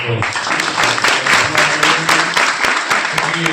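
A church congregation claps during worship, loud rhythmic hand claps from many people in a hall, fairly close and continuous, with a voice briefly audible at the start.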